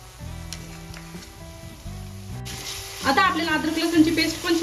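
Green chilies and vegetables sauté in a pan for pav bhaji, sizzling under a steady hiss. The frying swells louder after a few seconds, with stirring scrapes and a low background hum.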